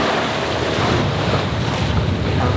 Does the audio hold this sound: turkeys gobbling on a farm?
no